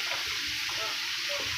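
Pakbet vegetables with bagoong stirred in a hot pan, a steady close sizzle and frying hiss with soft scraping pulses of the spoon, no talking.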